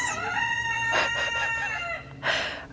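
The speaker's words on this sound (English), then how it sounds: "Why is the rooster crowing outside?" A rooster crows outdoors, two loud drawn-out calls close by with a brief gap between them.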